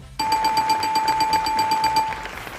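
A single loud game show buzzer at a live-streamed charity event sounds for about two seconds with a rapid pulsing tone, then cuts off.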